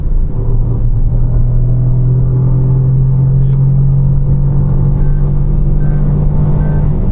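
A Toyota Urban Cruiser Taisor with a 1.0-litre turbo engine pulls hard in third gear, its low engine drone rising steadily in pitch as revs climb, loud and continuous throughout with no talk over it.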